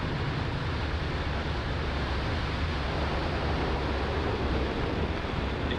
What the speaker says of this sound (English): Ignition and liftoff of Starlink